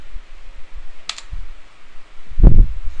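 A web address typed on a computer keyboard, a few separate clicks and taps spread across the clip, with one louder thump near the end, in a quiet room.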